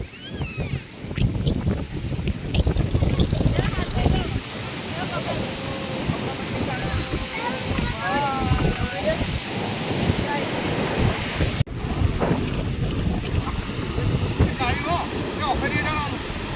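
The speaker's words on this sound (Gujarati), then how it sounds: "એ અહીં પાણી આવ્યું જોરદાર." Water surges in strongly, a loud churning wash with wind buffeting the microphone, while several voices talk and call out over it.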